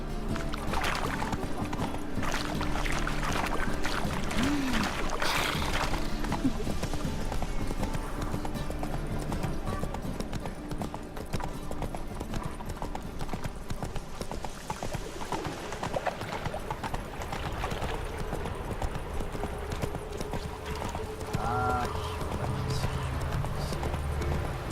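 Hoofbeats of the horse Roach galloping in a video game, a steady, continuous clip-clop rhythm throughout, with faint game ambience and an occasional brief snort.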